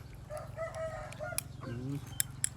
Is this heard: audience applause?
no